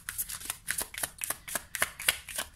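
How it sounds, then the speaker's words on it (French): Tarot cards are shuffled by hand in a rapid series of crisp riffling flicks and slaps, close and fairly quiet, with no voices. "on va prendre 2 autres cartes du tarot."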